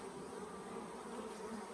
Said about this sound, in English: all of the bees that are in here right now